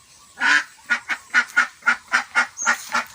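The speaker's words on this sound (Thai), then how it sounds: "น้องมาปล่อยเป็ด" A series of loud, nasal honking calls from ducks, about ten in quick succession with short gaps, close by and clear with no talking.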